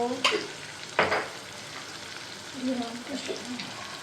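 Pointed gourd with salt, turmeric, cumin and coriander powder being sautéed in a pan, giving a steady sizzle with sharp spatula scrapes; a voice speaks faintly over the frying.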